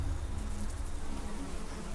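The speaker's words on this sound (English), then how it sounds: "Without being noticed, wasps have reached land via the military planes." Wasps buzz in a steady, dense drone that lasts throughout, with a low rumbling background and no voices, somewhere in New Zealand.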